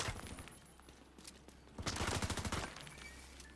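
Rapid bursts of gunfire from a hostile defender drone in a shooter video game, a fast volley of sharp shots clustered in the middle over a steady low hum of game ambience.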